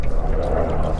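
Liquid pours into a cup beside a river during a fishing breakfast, a brief gurgling splash over low background rumble, close and moderately loud.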